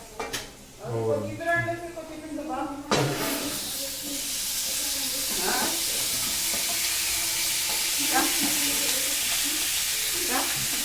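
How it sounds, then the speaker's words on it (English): Chicken hits a hot pan, and after some clattering and a spoken voice the frying bursts into a loud, steady sizzle with hissing steam. A few faint utterances surface over it while it keeps crackling close by. "there it goes. The sizzling sound, sizzle."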